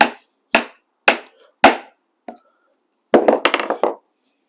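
Hammer blows strike a setting tool to seat a burr on a leather rivet: four sharp, evenly spaced hits, a lighter tap, then a quick flurry of rapid strikes, close and dry with silence between.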